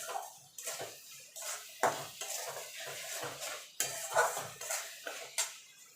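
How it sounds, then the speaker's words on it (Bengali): A utensil scrapes and clanks against a pot while spice paste for a chicken curry is sautéed, with irregular metallic knocks and stirring scrapes, close and moderately loud, and no steady sizzle beneath them. "এবার মশলাটাকে একটু কষিয়ে নেব"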